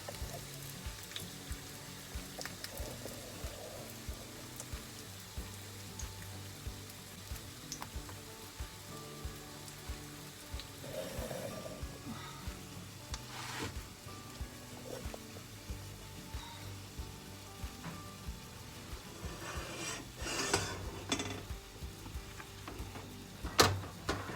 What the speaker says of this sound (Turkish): Şöyle kızartmaya başladım hamurumu.